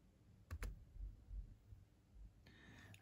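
Typing on an Asus laptop keyboard, a few faint, quick key clicks close by in a quiet room, then a soft brief rattle near the end.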